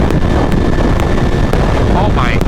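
A 2022 Kawasaki Z1000SX motorcycle with a flashed ECU tune runs at full throttle on a dyno, a loud, close, continuous roar with a rising whine near the end.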